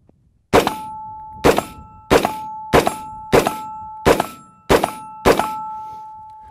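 Rounds from a Gilboa DBR Snake double barrel AR rifle strike steel targets downrange, giving eight sharp metallic clangs, each ringing briefly, spaced under a second apart at an uneven rhythm, with no talk.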